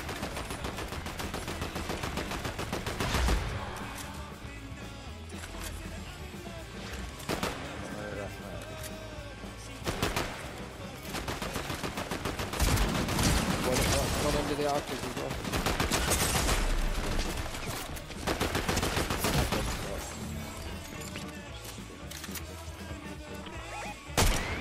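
Dense, continuous gunfire in a Fortnite match, bursts of rapid shots and crashes running throughout at close range, with a player talking over the action.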